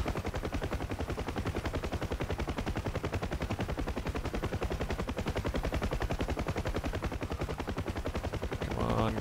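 Door gunners on a Huey UH-1 helicopter in the DCS flight game fire machine guns in one long, rapid, unbroken burst, loud and close, with steady rattling reports throughout and no talking.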